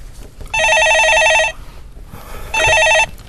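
Telephone ringing on a stock market call-in show: two loud electronic ring bursts, the first about a second long and the second shorter, separated by a brief quiet gap.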